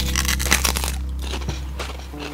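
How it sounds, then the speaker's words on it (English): Fried silkworm pupae snack being chewed up close, a few crisp crunches and bites over a steady low background hum, with no talking. "When you're chewing it, it feels funny."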